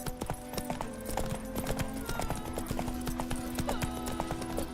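Hooves of the horse Roach clip-clopping in the Witcher 3 video game, a steady rapid trotting rhythm close by over a droning background.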